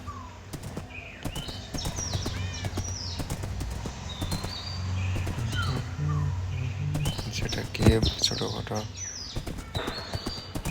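Minecraft horse hooves clip-clop in a quick, irregular series of sharp taps while someone talks over them, with a few bird-like chirps mixed in.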